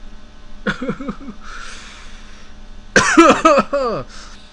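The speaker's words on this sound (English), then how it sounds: "Don't worry, it's healthy cough." A short burst of harsh coughs comes first, then a louder, longer fit of rapid coughing with a raspy throat edge, close to the microphone.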